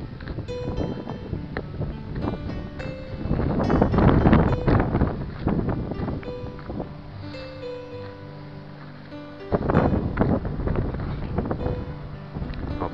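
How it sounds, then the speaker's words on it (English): Wind buffeting the microphone during a bicycle ride along a river, a steady low rumble with gusty surges that swell and ease over several seconds, loud and close with no talking. "We got to hear a lot of wind."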